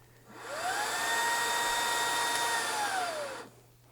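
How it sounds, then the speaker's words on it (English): Reesibi R5 electronic air duster motor spinning up quickly to a loud, steady high-pitched whine, holding for about three seconds, then winding down fast to quiet. "Startup speed here is very quick, as well as shutdown speed, and I'll let you hear that."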